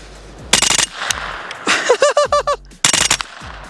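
A CZ Scorpion Nexus Evo with a bearing-delayed action is bump fired outdoors in rapid bursts of sharp, loud shots, several quick strings separated by brief pauses, close and dominant with echoing cracks.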